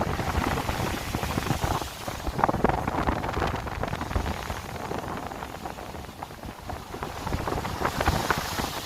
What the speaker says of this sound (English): Oh ye gods, it's windy.